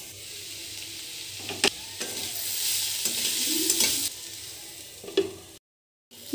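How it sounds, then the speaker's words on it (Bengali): Carrots frying in a pan with salt, turmeric and slit green chilli, giving a steady nearby sizzle with a few sharp stirring scrapes, ending in a brief gap of silence. "গাজর, লবণ, হলুদের গুঁড়ো, কাঁচা লঙ্কা চিরা, 1 মিনিট ভেজে নিচ্ছি"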